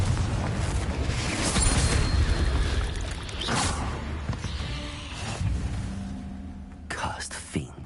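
A Confringo fire spell from Hogwarts Legacy bursts in a deep rumbling blast with whooshing, thudding impacts and debris, followed by fainter crackles and a final sharp hit, with a voice speaking over it.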